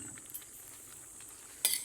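Pakbet vegetable stew, sautéed with shrimp paste, is stirred in a pan with a soft steady hiss. Near the end comes a single bright clink of a utensil against the pan.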